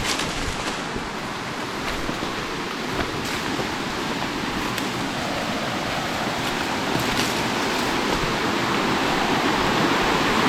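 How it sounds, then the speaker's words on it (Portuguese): A waterfall on a rural property near Blumenau, Santa Catarina roars steadily as a broad, unbroken rush of falling water, loud and constant with no voices over it. "Aqui é a cachoeira, eu vou mostrar para vocês."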